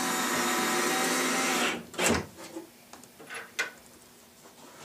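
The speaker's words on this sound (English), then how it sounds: "set a couple screws." A power driver whirs continuously, then stops, followed by a few knocks and clicks as screws are set into a Forevermark Cabinetry lazy Susan base cabinet during assembly, close with no speech.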